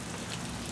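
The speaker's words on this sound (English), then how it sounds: "it's back raining semi-heavy again" Semi-heavy rain falls steadily during the Hurricane Hilary tropical storm in San Diego, a continuous soft broadband hiss with no other sounds.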